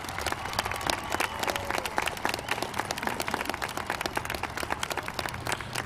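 A graduation crowd applauds the class of 2021 scholarship winners with steady, moderately distant clapping that holds throughout without a break.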